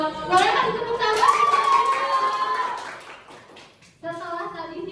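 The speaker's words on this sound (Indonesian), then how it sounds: "Boleh kasih tepuk tangan?" Schoolchildren in a fifth-grade classroom clap together, a brief patter of hands under children's voices and a sustained sung-like tone, fading out near the end before speech resumes.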